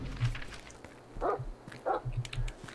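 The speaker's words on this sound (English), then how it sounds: "Hey, there's a dog." Dog barks inside the zombie-survival train game The Final Station, two short sharp barks at moderate distance over a low rumbling game soundscape, with no talk.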